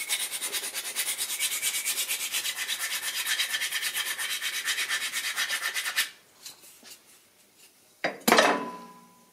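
An Opinel knife scrapes a seat back in fast, steady rhythmic strokes for about six seconds, close and harsh, then a few lighter scrapes and a sharp knock with a brief rattle.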